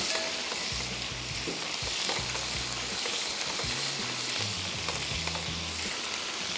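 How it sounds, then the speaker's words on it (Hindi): Onions with chopped garlic fry in a pan, a steady sizzle that holds throughout, with brief scraping sounds and low thumps as the mix is stirred. "प्याज को कर रहे हैं फ्राई। साथ में इसमें आ जाएगा लहसुन चॉप किया हुआ, इसको मिक्स किया।"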